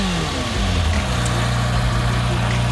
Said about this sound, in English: If you want to rev the engine, you can. All right, I'll rev it.